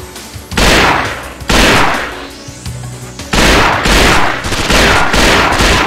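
Gunfire in the video game Nightfire, with loud bursts of rapid shots in several long volleys separated by short pauses, harsh and up close with echoing tails.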